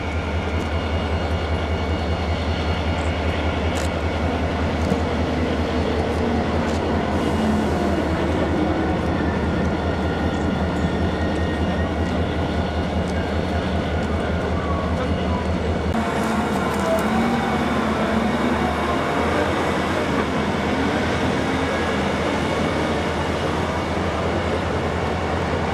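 A DSB Litra ME diesel locomotive hauling a regional train in Denmark, a steady low engine drone and rolling rumble with a noticeable shift midway as the train passes or changes, no talk.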